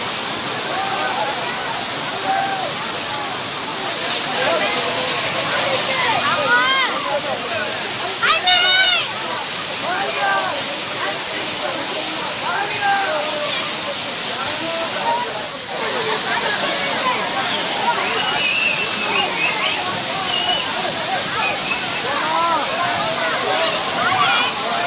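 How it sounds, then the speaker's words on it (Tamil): The Agasthiyar waterfall in Nellai district pours down in a steady, loud roar while crowds of tourists bathe under it. Voices and splashing are mixed into the constant rush of water. "நெல்லை மாவட்டம் அகஸ்தியர் அருவியில் ஏராளமான சுற்றுலா பயணிகள் குடும்பத்தினருடன் உற்சாகமாக குளித்து விடுமுறையை கொண்டாடினர்"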